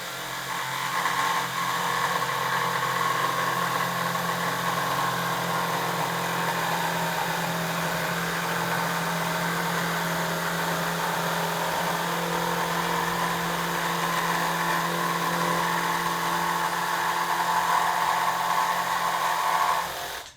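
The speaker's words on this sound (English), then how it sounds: "Just going to do a straight rip here." A Corebilt jigsaw makes a straight rip cut through roughly 3/4-inch wood, giving a steady, continuous buzzing whine close by that runs for about twenty seconds without talk.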